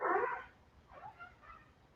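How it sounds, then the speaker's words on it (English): A dog gives a short whining yelp followed by two fainter whimpers, heard nearby indoors with no speech over it. "That was my dog."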